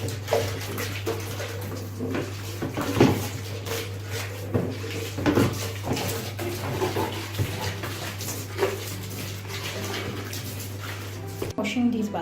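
Baskets being scrubbed with washing powder and a sponge, heard as close, irregular scrubbing and rubbing strokes with watery splashes and clunks over a steady low hum, at moderate volume.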